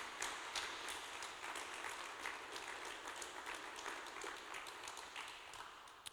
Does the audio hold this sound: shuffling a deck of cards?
no